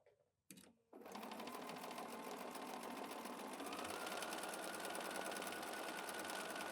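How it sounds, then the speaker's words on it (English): A sewing machine runs fast and steady during free-motion quilting, starting after a brief pause and a few handling sounds, then humming and clattering continuously close by. "look how much control I have over this machine. This is free motion."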